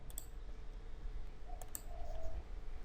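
Computer mouse clicks while navigating a settings page in GetResponse: a couple of quick, crisp clicks near the start and another pair a bit later, light and close over a steady low room hum, no speech.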